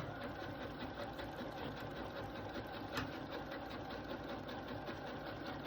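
A sewing machine with a walking foot stitching thick fleece over canvas for a dog bed, a steady rapid mechanical whirr running evenly and close throughout.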